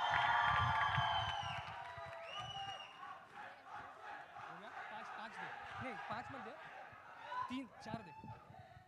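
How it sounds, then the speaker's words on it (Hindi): At the Singh Is Bliing trailer launch event, a large crowd cheers and whistles, with rising and falling whistle calls over a steady roar and voices, loudest at the start and swelling again near the end. "हाँ हाँ सीटी बजा लो, चलेगा"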